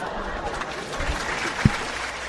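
A studio audience claps in a steady, moderately loud patter of applause, with a louder thump near the end.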